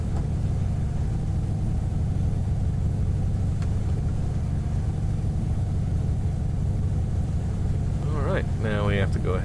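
Aircraft engine running steadily in the X-Plane flight simulator while parked on the ground, a constant low droning rumble that stays even throughout, with someone talking near the end.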